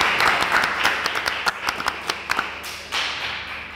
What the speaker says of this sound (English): can everybody in the room give this man a round of applause?